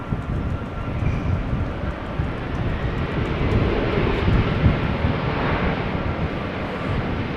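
An Embraer 190 short-range jet at a wet, windy Amsterdam Schiphol Airport roars steadily and loudly, a broad engine rush that swells slightly midway with no voices.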